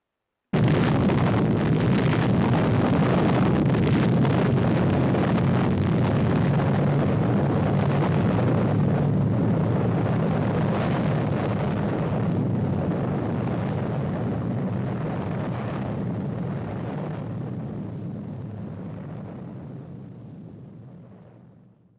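Archival recording of a 1946 US nuclear test at Bikini Atoll: a loud, sustained roaring rumble that stays dense and powerful for about twenty seconds before slowly fading, with no voices.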